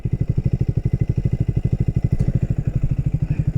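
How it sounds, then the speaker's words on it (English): A motorcycle exhaust thumps at idle close by, a steady, even train of low pulses that holds its pace throughout with no other sound over it. "Exhaust sounds nice."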